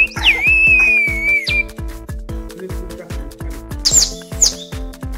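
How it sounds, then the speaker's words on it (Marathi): A water-filled plastic bird whistle toy gives warbling, trilling chirps, once at the start and again near the end, over loud rhythmic music with a steady thumping beat at a family birthday celebration. "त्यांच्याकडे प्लास्टिकचा एक पक्षी होता, त्यामध्ये पाणी घातलं तर पक्ष्याचा आवाज येत होता"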